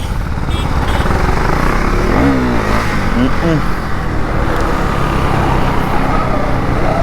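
A Husqvarna Svartpilen 401 motorcycle is ridden with a steady, loud engine drone throughout and a couple of brief revs rising in pitch, close to the microphone under strong wind noise.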